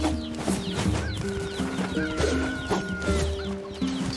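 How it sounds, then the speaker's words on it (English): Chickens in the video game NieR Replicant cluck in short repeated bursts, fairly near and steady, with game ambience behind and no talk over them. "Chickens."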